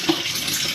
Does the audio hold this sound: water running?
yes